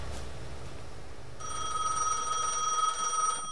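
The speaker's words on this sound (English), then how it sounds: "let's go answer the phone." A telephone rings in the video game Gas Station Simulator, a bright electronic trill starting after a quiet moment and continuing steadily near and clear.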